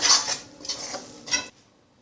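A spoon scraping and tapping through thick mint thokku in a metal pan, a few close clinks and scrapes before the sound stops, no talk.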